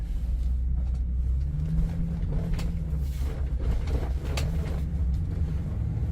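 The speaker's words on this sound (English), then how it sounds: "we're going on a quick test drive here" A 2004 Ford F-250 Super Duty Harley-Davidson Edition pickup on a test drive, its engine and road noise droning steadily from inside the cab with a low hum and some wind rush, and nobody speaking.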